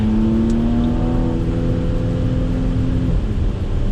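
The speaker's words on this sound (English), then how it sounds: "If I'm not mistaken, this is a 3-liter V6 engine." A Porsche 3-liter V6 engine accelerates on a track during a road-show drive, a loud, steady rising drone heard from inside the car, with a brief shift near the end.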